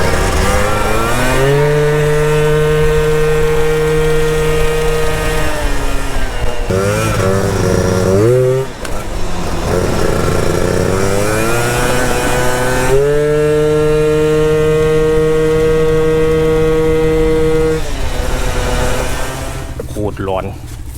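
A Honda Pop motorcycle on a test ride revs loud and close. The engine whine climbs and falls through several throttle bursts, dips briefly at a gear change, then climbs again.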